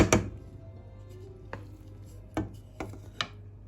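A knife cuts potatoes in half on a board while a beef and vegetable stew cooks, giving four or five sharp, separate chops spaced irregularly, close and fairly clear over a low steady hum.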